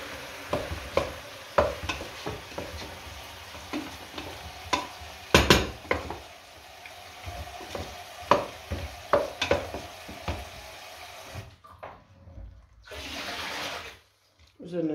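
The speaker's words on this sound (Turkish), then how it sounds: "Güzelce karıştırıyor." Green tomatoes fry in a pan while being stirred, giving a series of scraping, clattering strokes over a soft sizzle, followed by a brief rushing pour near the end.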